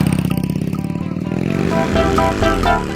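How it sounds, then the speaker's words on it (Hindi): A phatphati motorcycle speeds off down a village's main road, its engine loud and close, chugging in rapid pulses and then revving up in pitch as it pulls away. "हैदर ने अपनी फटफटी मोटरसाइकिल गाँव की बड़ी सड़क पर भगा दी"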